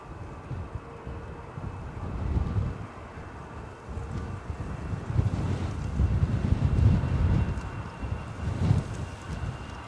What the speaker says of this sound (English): the wind is, that is the strongest it's blown all day